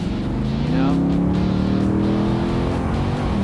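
Exhaust of a replica 1966 Revology Mustang modeled on the convertible, a loud, close engine note that swells and holds a rising then gently falling pitch as the car revs or moves past, alone with no voices.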